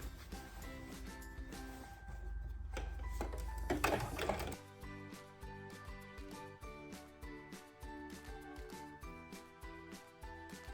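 A sewing machine stitches a blazer's front panel to its lining in a straight seam, a close, even run of rapid mechanical clatter in steady pulses, preceded by a louder whirring stretch.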